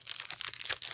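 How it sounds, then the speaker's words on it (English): Sealed Pokemon card packs being shuffled together by hand, a close, continuous crinkling and rustling of foil wrappers with small bursts throughout and no talking. "shuffling all the packs"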